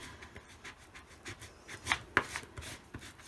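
A Harbor Freight squeegee is drawn across clear contact paper on a framed photo, giving soft, dry scraping and rubbing strokes with a couple of sharper ticks, close and fairly quiet, with no voices.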